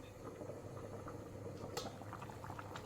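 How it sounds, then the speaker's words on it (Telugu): Fish curry with tamarind juice simmering in a pot, a soft, continuous bubbling and gentle popping close by with no voices. "కర్రీ ఉడుకుతుందండి"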